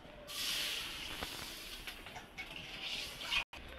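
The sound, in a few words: washing the wok with water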